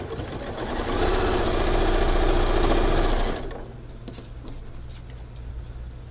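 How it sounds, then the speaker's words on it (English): A sewing machine runs steadily for about three seconds, stitching the borders of a log cabin style Paintbox quilt block, then stops, leaving a quiet room. "now we're just going to go ahead and add the borders again and again, just sewing like a log cabin"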